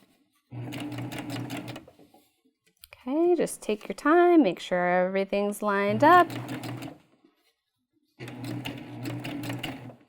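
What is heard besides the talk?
sewing machine stitching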